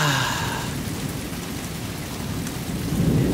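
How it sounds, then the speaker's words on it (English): Steady heavy rain, pouring hard, with rumbling thunder swelling near the end; a continuous close wash of downpour with no voices. "it's raining and thundering"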